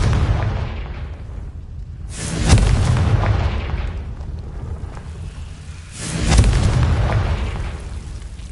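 Two deep, booming fire-spell explosions in the video game Hogwarts Legacy, each swelling and rolling off over several seconds against a loud rumbling background.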